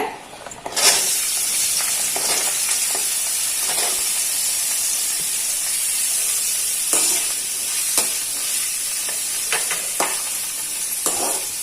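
Pirandai (adamant creeper) sautés in hot oil with a constant close hiss and sizzle, while a spoon scrapes and stirs in scattered clicks throughout.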